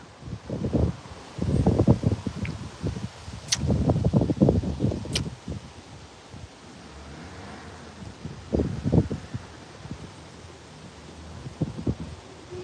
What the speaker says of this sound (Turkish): Acayip rüzgar var ya.